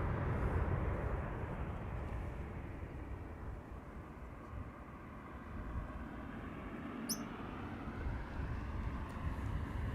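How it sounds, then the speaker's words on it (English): Airbus A340 airliner taxiing at Amsterdam Schiphol Airport on a sunny day, a steady low jet-engine rumble and whine that stays loud and continuous throughout, with no one speaking. "is that A340 on the move already?"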